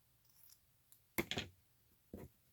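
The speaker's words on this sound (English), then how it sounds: "So I'm going to make a little snip here." Scissors snip through fabric while a junk journal cover is made, giving a few crisp close cuts: two quick snips together, then a single one a moment later, in an otherwise quiet room.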